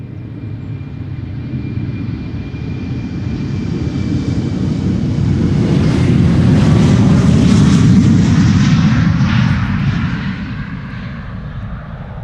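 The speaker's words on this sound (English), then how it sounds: "Embraer 195 Air Dolomiti going to Munich, Star Alliance livery." An Air Dolomiti Embraer 195 in Star Alliance livery departs Schiphol for Munich, its jet roar swelling to a loud peak mid-pass and then fading, alone and with no voices.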